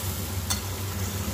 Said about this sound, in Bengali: এবার খুব ভালোভাবে কষিয়ে নেবো অল্প করে জল দিয়ে দিয়ে।